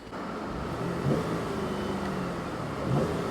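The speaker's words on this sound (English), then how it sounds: "you really do hear more engine noise than exhaust note" A 2014 Buick LaCrosse engine held at full throttle, capped near 3,000 RPM, gives a steady, muffled mid-range drone with more mechanical engine noise than exhaust note, heard continuously from inside the car.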